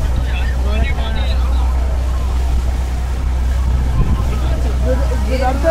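Ships and launches return across a rough tidal sea on the crossing from Namkhana to Benuban jetty during the Gangasagar Mela, heard as a loud, steady low engine drone with wind noise and distant voices over it.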